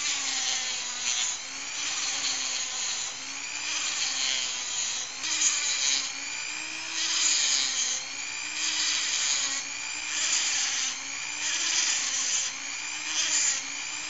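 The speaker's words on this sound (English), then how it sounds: "I'm going to use this rotary tool to put in some cross-hatching" A rotary tool grinds cross-hatch scratches into a smooth flat surface, a loud, high, steady whine that rises and dips in pitch with repeated strokes and carries on without a break.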